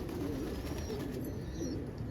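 Low, rolling coos of an opal pigeon cock repeat a few times against a steady background hum, moderately close, with no talking.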